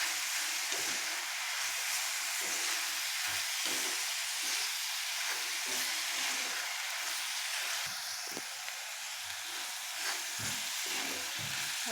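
Onions sauté with salt in a hot pan, giving a steady bright sizzle with rhythmic scraping strokes from stirring close by, and no talk.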